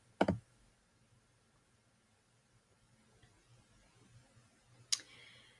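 Two crisp, isolated mouse clicks sound a few seconds apart on a computer used for class registration, with near silence and faint room noise between them.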